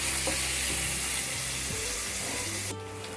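Spring onion stalks frying in a pan over low to medium flame give a dense, steady sizzle with faint stirring clinks, cutting off abruptly near the end.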